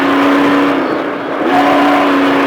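Trophy truck engine on a driving course, accelerating steadily back on throttle with a continuous close, loud mechanical roar and a brief dip midway before it pulls again.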